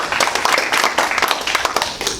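A crowd at a fire police training session breaks into brisk applause: dense, overlapping clapping, close and steady throughout, with no talking.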